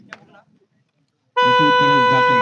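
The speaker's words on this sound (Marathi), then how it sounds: "बजर वाजला गेलाय बघा भोंगा वाजला" At a kabaddi tournament final, a loud electronic buzzer horn suddenly blares and holds steady after a brief moment of faint crowd murmur and near silence.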